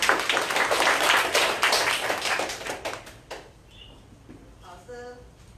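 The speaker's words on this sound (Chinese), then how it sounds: "感恩大家用热烈掌声" Warm audience applause at a group learning session, a dense burst of many hands clapping that fills the first three seconds and then fades out before a single voice starts speaking.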